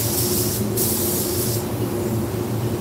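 Spray gun laying a light coat of PPG Envirobase paint on a Tesla: a loud, close, steady hiss with a short break in the middle and a low hum underneath.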